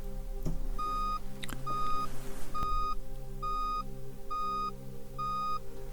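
A run of short, evenly spaced electronic beeps sounds clearly, about seven in a row at a steady pace, with faint knocks early on.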